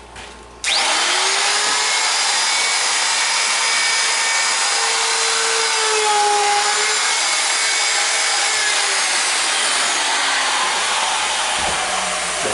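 A power tool trims the ends of a countertop, cutting steadily for about twelve seconds, loud and close, with a high whining buzz and no talking.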